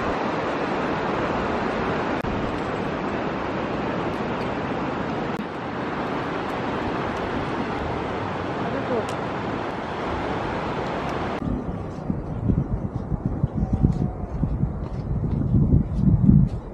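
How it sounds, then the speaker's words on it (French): Below the Annapurna trek in the Himalaya, a mountain river rushes in a steady, dense roar that thins after about eleven seconds into closer, uneven rumbling and wind buffeting against the microphone. "Et en contrebas par ici, c'est la rivière."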